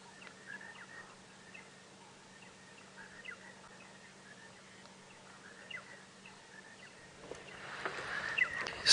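Birds call around a safari vehicle at sunrise, scattered chirps and calls at moderate distance over a faint low idle hum, quiet and sparse, with a louder rustle near the end.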